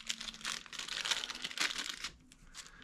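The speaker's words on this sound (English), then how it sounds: "we'll take it out of the plastic bag so you can see it better" Plastic bag crinkles and rustles in quick, uneven bursts close by as a Sig SLH silencer is taken out, fading toward the end, with no talking.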